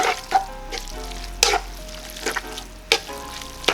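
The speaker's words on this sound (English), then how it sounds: "right away, you're heating up the sauce with noodle" Spaghetti and basic tomato sauce heating together in a pan, a loud close sizzle and bubbling with several sharp stirring clatters, no talk.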